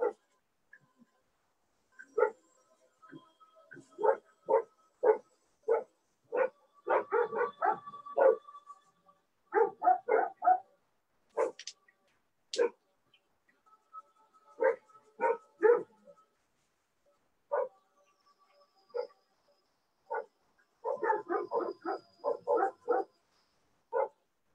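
Pet dogs barking in repeated bursts of several sharp barks and yips, with short pauses between volleys, fairly near and loud against an otherwise quiet room.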